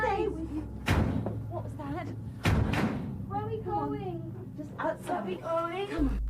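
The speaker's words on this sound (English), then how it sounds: "loud banging noises emanate from all across the home" Loud banging noises inside a house in a dark television drama, heavy thuds and slam-like hits breaking through, mixed with voices talking over them.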